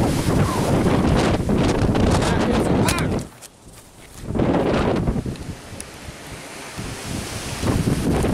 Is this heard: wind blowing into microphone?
yes